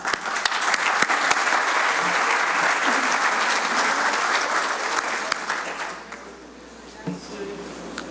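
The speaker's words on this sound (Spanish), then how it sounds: "Por favor, un aplauso." Sustained audience applause at a plenary session, a dense steady wash of many hands that gradually thins and fades toward the end, with a voice briefly heard near the close.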